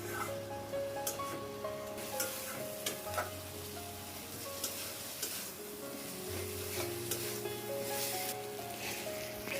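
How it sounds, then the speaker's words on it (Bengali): Onions fry in a pan under a continuous soft sizzle while a spoon stirs them, adding light scraping taps at a slow, regular pace. A faint tonal hum runs underneath. "পেঁয়াজটা ভালো করে নেড়ে চেড়ে দিচ্ছি একটু"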